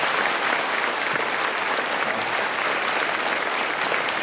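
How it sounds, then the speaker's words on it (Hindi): Steady, dense applause from a large audience at a Brahma Kumaris gathering in Shyamnagar, continuous and even throughout with no speech over it. "दोस्तों मैं चाहूंगा कि एक बार और आप इनके लिए ताली बजाइए।"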